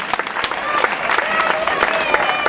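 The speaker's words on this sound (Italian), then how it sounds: "Un applauso a Daniele!" An audience at an amateur talent show in Ruvo di Puglia, Italy, applauds the final winner with steady, lively clapping and crowd murmur throughout.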